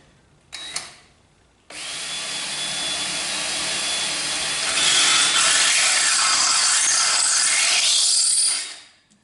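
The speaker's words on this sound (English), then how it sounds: "Got all our holes drilled." A power drill whines steadily for several seconds, biting into a metal tube, loud and close, after a brief short burst at the start.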